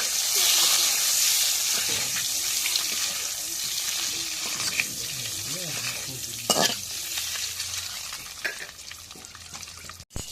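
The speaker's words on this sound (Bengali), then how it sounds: "এখন ডিমগুলো দিয়ে দিই।" Eggs frying in a hot pan with turmeric, a steady loud sizzle running throughout, broken by scraping stirs and a few sharp clinks of the spoon against the pan.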